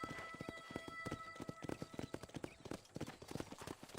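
Horse hooves clip-clop in a steady, brisk rhythm of sharp, distinct hits in Red Dead Redemption, moderately quiet, with faint talk in the background.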